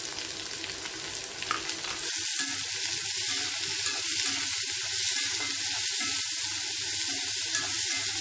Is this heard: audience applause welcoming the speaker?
no